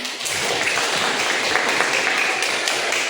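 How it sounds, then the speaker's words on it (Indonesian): Applause for a student after a theater audition role-play in a school guidance session, a steady dense patter of clapping hands lasting about three seconds without a break. "Tepuk tangan."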